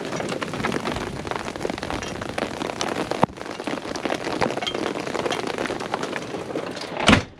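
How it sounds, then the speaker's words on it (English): Dime-sized hail drums steadily on an RV roof during a storm in Custer, South Dakota, a dense close clatter with one sharp knock midway and a louder thump near the end, no voices. "the hail's slowed down a little bit"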